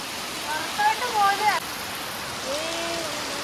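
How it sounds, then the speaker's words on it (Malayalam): Steady rain hiss fills the clip, with brief voiced sounds and tones rising over it early on. "ഒടുക്കത്തെ മഴയാണ്"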